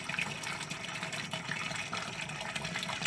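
Strong water gushes steadily from a recently repaired water pump, a continuous close rushing flow with no other sounds.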